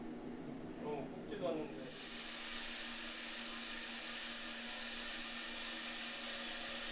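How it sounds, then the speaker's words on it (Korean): A coffee roaster drum turning green coffee beans at around 210 degrees gives a steady, broad whooshing hiss, with a voice speaking briefly at the start. "서서히 온도를 올려 210도에 이르면 생두를 투입해 볶기 시작합니다"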